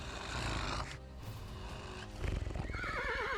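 A horse spooked by a dog neighs loudly, its whinny rising and quavering near the end over hoof clatter and movement noise.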